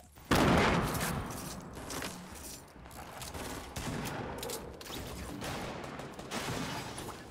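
Rapid gunfire in a shooter video game, a sharp onset followed by dense bursts of shots and mechanical clatter, loud and close with no talking.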